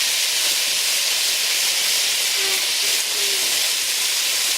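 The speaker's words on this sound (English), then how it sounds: "It seems to be sizzling loud." Loud, steady sizzling hiss of pork frying in a hot pan, continuous and close, with no talking.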